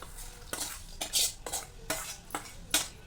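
Tempering is stirred into mango pickle with a spoon, giving six or seven distinct scraping, clinking strokes at a regular unhurried rhythm, close and moderately loud.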